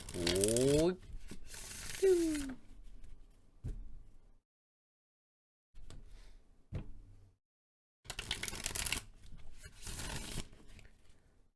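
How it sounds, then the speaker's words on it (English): Quick bursts of tarot cards being shuffled, riffling and rustling in short spurts separated by brief silences, close by. "let's shuffle the tarot deck."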